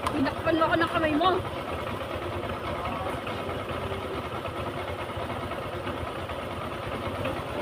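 Motorcycle engine idling in the background, a steady low rumble under brief chatter from people nearby at the start, continuing evenly and moderately quiet throughout.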